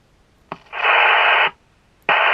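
Squelch noise from a Sirio 2016 CB radio: a short click, then a loud burst of hiss lasting about a second that cuts off, and another burst of hiss starting near the end.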